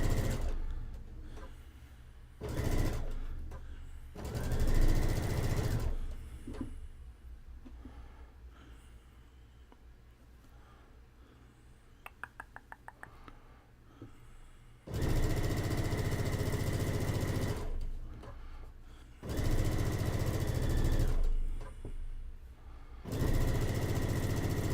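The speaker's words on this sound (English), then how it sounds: "Just line up and sew" A sewing machine stitches pieced graduation quilt fabric in several runs of steady, close, mechanical whirring. Quiet pauses fall between the bursts.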